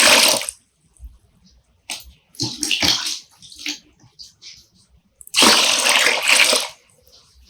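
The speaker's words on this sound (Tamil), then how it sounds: "5 லிட்டர் தண்ணி ஊற்றி இருக்குங்க." Five litres of water poured into a container while making homemade fabric conditioner, heard as bursts of splashing, gushing flow separated by pauses and small knocks, close by, with no talking.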